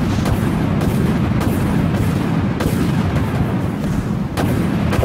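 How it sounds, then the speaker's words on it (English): Torpedo launches and weapon fire in the space combat game Dreadnought come as repeated heavy booms, about five or six spaced blasts over a dense, loud rumbling din. "Torpedo launched."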